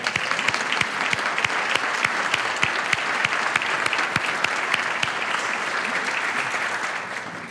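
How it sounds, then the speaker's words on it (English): Audience applause at a conference center grand opening in downtown Douglasville, steady dense clapping from a crowd lasting several seconds with a few sharp individual claps standing out. "Let's give her a round of applause"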